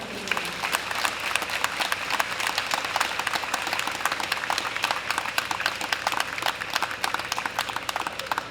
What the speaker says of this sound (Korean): 큰 환호와 큰 격려와 응원의 박수 다시 한번 부탁드립니다.